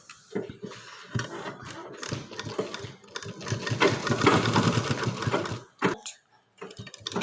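A sewing machine stitches fabric in loud, fast bursts of rhythmic needle clatter, pausing briefly between runs, close and clear without talking.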